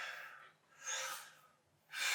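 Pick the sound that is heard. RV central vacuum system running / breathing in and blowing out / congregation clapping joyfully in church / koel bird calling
breathing in and blowing out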